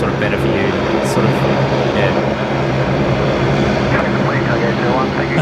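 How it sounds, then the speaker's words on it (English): Qantas flight 630 from Melbourne lands on runway 19 left at Brisbane Airport at night, a loud continuous airliner engine roar that holds steady throughout, with people talking over it. "That's Qantas 630 coming in from Melbourne tonight. They're on runway 19 left."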